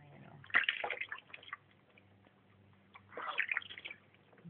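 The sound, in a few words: water running during baby's shower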